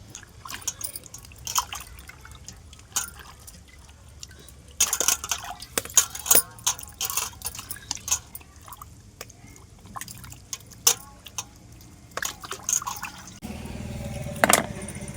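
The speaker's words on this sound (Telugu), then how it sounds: "నేను వాటర్లో వేసేస్తున్నాను. చూసారా?" Pieces of goat meat dropping into water in a kitchen, giving repeated irregular splashes and drips with clinks of a pot, moderately close, and a louder splashing burst near the end.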